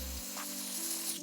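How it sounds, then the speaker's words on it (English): Hairspray hisses from an aerosol can onto a braided wig during a half up, half down install, one steady spray lasting just over a second, close and fairly loud. "I'm gonna get some spray and just spray that"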